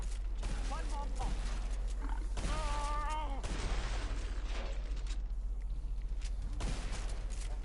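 A pump shotgun fires repeatedly in the video game Killing Floor 2, with sharp broadband blasts scattered through a busy, noisy fight. Voices and creature cries can be heard over and between the shots.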